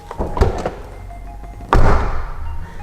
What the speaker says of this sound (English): The sound of the door reminds me of the legendary Citroen SM